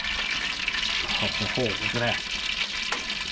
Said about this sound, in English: Fat is dripping off into that drip pan there.